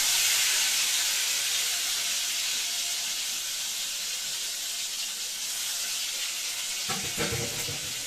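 Tomatoes sizzle and hiss steadily in a hot pan, a loud broadband frying crackle that runs without pause, with a few brief clatters near the end.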